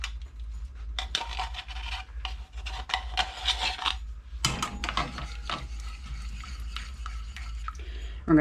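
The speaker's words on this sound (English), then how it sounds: "We're going to stir it in." A spoon scraping and rubbing in a bowl as sweetened condensed coconut milk is stirred into a mixture for Mexican chocolate and baked apples, with repeated gritty strokes over a low steady hum.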